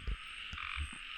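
A frog croaks out in the open, a close, fairly loud rasping call with a steady high buzz and a few low thumps, heard alone.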